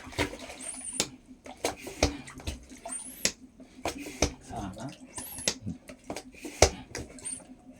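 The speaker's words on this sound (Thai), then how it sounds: "เติมน้ำเริ่มได้ยินเสียงใช่เปล่า" Water poured into a blocked toilet drain pipe with a long run behind it, giving scattered gurgles, drips and clicks over a low steady hum, with some faint background speech.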